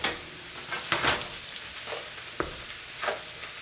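Potatoes, chorizo and eggs sizzling in a frying pan while being stirred, a steady close frying hiss broken by a few scraping stirs of the spoon, with no talking.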